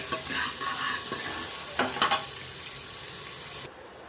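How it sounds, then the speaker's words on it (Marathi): Onion frying in oil for a village-style mutton curry sizzles steadily while a spoon stirs it, with a few louder scraping clatters midway before the sizzle settles and quiets. "कांदा पण छान असा फ्राय झालेला आहे ना बघा"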